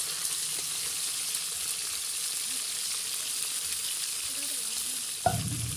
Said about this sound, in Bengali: মাছগুলো ভালো করে ভেজে নিব, উল্টে পাল্টে ভাজবো